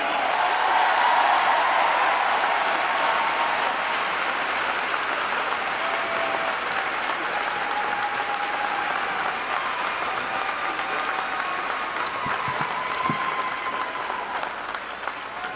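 Audience applause at a school district convocation, honoring teachers and principals of the year: a large crowd clapping steadily and loudly throughout, a dense, sustained wash that thins slightly toward the end.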